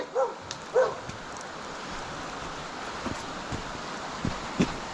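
A dog gives two quick barks early on, then faint yips and outdoor rustling continue under a steady breezy background.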